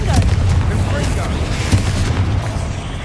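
A Confringo blasting spell from the Hogwarts Legacy video game goes off as loud, booming explosive bursts that fill the whole stretch, with a voice talking over the din.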